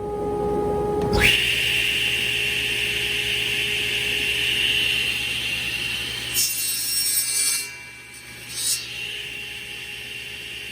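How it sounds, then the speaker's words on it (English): A saw blade cuts a wooden piece in half for a wooden phone speaker, with a loud, steady, close sawing roar that holds for several seconds, then breaks into a few shorter rasping bursts before stopping, with no talk. "So I'm going to just go chop this thing in half right now."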